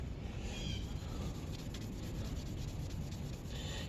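Steady scrubbing on old yellowed fork tubes from a vintage Yamaha, a continuous close rubbing and rasping texture with a few brief pauses and no talk.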